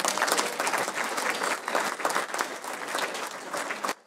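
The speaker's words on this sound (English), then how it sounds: "So give yourselves a round of applause." Steady, enthusiastic applause from an audience at an annual bash in Lawrence, Massachusetts fills the room for several seconds, then cuts off abruptly.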